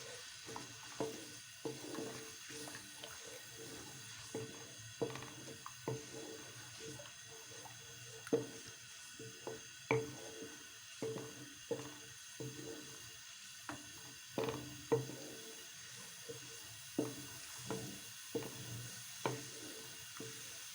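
Garlic ginger paste frying in ghee in a wok, a soft steady sizzle with repeated scraping and stirring clicks, quiet and close, running without talk.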